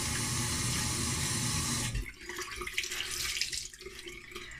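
Tap water runs steadily into a bathroom sink while face scrub is rinsed off, a loud, close rush that cuts down partway and turns to softer splashing from hands scooping water.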